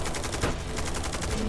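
Rapid bursts of gunfire in the FPS/RTS video game Eximius: Seize the Frontline, a steady run of closely spaced shots filling the short stretch at a loud, even level.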